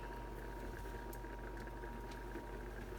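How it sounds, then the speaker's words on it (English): Water with jasmine rice bubbling in a cooking pot, a faint steady simmer of soft patters and pops over a constant low hum, with no talking. "If you listen, you can hear it bubbling right now."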